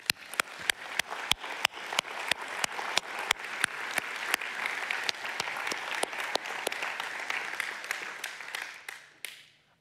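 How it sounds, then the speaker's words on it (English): A church congregation applauds military service members: dense, steady clapping from a crowd with sharp individual claps standing out, sustained for several seconds before tapering off at the end. "And can we give them a round of applause?"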